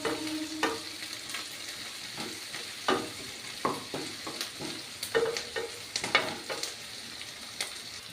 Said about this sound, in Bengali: পেঁয়াজটাকে একটু লাল করে ভাজবো।